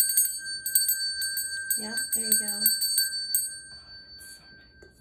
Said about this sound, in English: I'm gonna use smoke, but I also have a bell because I'm extra.